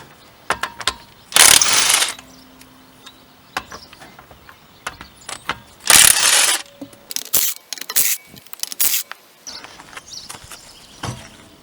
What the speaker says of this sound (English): Now it's time to get them nuts off.